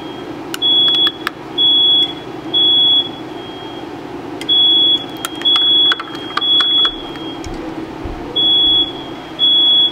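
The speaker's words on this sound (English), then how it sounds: "Just waiting for the smoke alarms to stop going off." Smoke alarms shriek in repeated short bursts of piercing beeps, loud and close, with pauses between, over a low background hum, while soft plastic fishing baits are being made.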